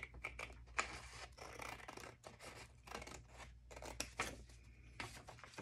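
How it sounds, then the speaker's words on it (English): Scissors snip through paper along the fold line of a composition notebook, a quiet close series of irregular crisp cuts and rustles with no talking. "So we're going to cut that right on that fold line."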